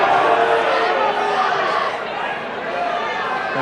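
Crowd at a high-school regional wrestling finals match, a dense steady roar of cheering and shouting voices in a gym that fills the whole stretch, loud and close throughout.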